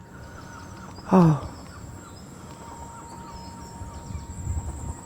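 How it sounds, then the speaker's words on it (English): A seagull gives a single short, loud, harmonic cry near the start of a morning walk outdoors. A steady low outdoor rumble follows, with a brief exclamation from a person. "Not the squeaky bike, but the sound of the seagulls."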